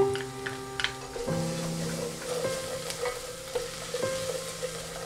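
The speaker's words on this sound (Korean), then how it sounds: "그 다음 다진 마늘을 넣고 1분간 조리해주세요." Minced garlic frying in a pot of hot oil with onion and carrot over medium heat, a steady close sizzle with stirring scrapes and clinks throughout, no talking.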